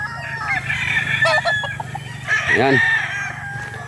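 Chickens cluck and a rooster crows on a freshly trimmed farm; several close, loud crows and clucks overlap, with someone speaking briefly between them.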